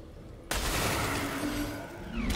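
Gunfire in the video game Call of Duty Black Ops 3 Zombies as a player shoots symbols, a sudden loud burst that continues as a steady, dense wash of shots for about two seconds, with no talking.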